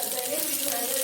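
Mustard seeds hitting hot coconut oil in a pan crackle and sizzle as a steady hissy spatter with a faint tone through it, near and even for the whole second.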